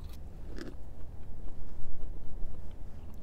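Someone chewing a mouthful of boiled yucca stalk during a taste test, a brief crunchy bite followed by several seconds of soft, close, wet mastication, no talk.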